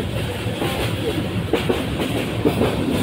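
Steady rumble and rattle from inside a moving passenger train travelling from Dhaka Airport, a continuous loud drone with faint clickety-clack under it.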